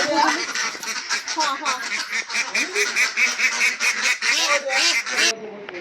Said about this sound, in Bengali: হাঁস দুইটাকে আমাদের হাতে হস্তান্তর করে দিল আমাদের মাহফুজুর ভাই